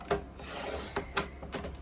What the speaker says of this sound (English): going to trim that at 2 inches by 12 inches